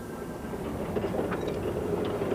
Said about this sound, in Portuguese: A ferrovia de cremalheira para Schniegplatt, na região da Jungfrau, oferece uma viagem lenta, mas magnífica